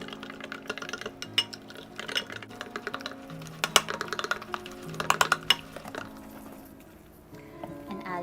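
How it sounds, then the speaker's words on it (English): Vegan raw cookie dough batter with maple syrup being stirred in a bowl, giving irregular clinks and scraping knocks of the utensil against the bowl, with quieter swishes and a soft voice in the background. "as I'm stirring it, it's becoming thicker and more like a cookie batter"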